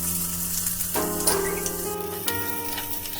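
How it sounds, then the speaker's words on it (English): Garlic and onion sauté in hot oil in a pot for tomato egg drop soup, a steady close sizzle with a few sharper crackles, heard alone without talking. "Once the oil is hot enough, we're going to saute our garlic and our onion."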